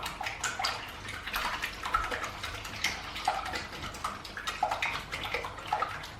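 Eggs whisked by hand in a jug, rapid quiet clinking and sloshing strokes repeating in an uneven rhythm, close and fairly soft with no talking.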